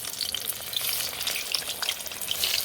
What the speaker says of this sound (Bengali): বেগুনটা লাল করে ভেজে নেবো।